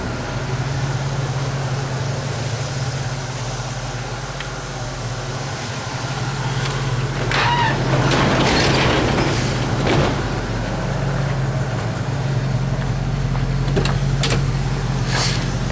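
A 1972 Ford Mustang on the road, its engine giving a steady low drone with road and cabin noise from inside the car, briefly rising in the middle, no voices.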